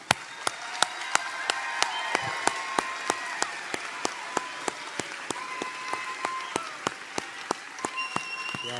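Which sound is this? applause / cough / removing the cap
applause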